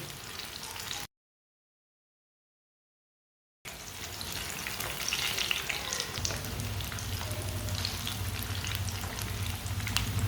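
Pakoras frying in a pan of hot oil: a steady, close sizzle with soft crackling that runs throughout, broken by a short silent gap early on, then continuing evenly.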